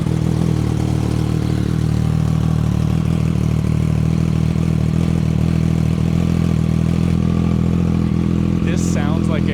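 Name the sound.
Triumph Street Triple with SC Project exhaust cold start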